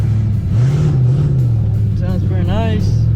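Loud exhaust from a car with an X pipe and open, unplugged O2 sensor bungs, a steady deep drone with a slight rise in revs, running continuously close by while a voice talks over it.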